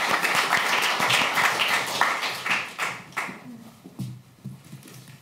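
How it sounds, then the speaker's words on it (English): A small audience gives scattered clapping to welcome an author at an evening literary event, sparse claps thinning out over the seconds with a few voices murmuring. "So please give her a warm applause."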